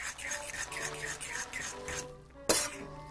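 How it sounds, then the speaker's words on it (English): Kinchan squid instant yakisoba noodles stirred in a pan, giving a rhythmic run of soft scraping strokes followed by a sharp clink of a utensil near the end, close and fairly quiet. "Give this a stir and give it a taste."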